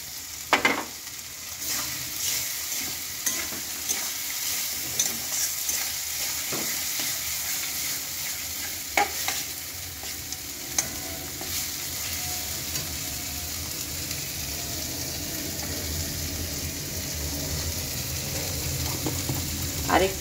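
Potatoes sizzle in a pan of pre-cooked spiced masala with salt and turmeric, a steady broadband fry running throughout as a spoon scrapes and stirs at irregular intervals, producing sharp clinks and scuffs close by, with no talking.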